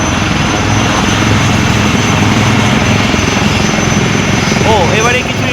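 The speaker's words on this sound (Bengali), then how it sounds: "আবার দুটো হেলিকপ্টার কিন্তু উড়ে আসছে এই মুহূর্তে" Two military helicopters flying in during a drill at a parade ground, a loud, continuous rotor roar and beating thrum that stays close throughout.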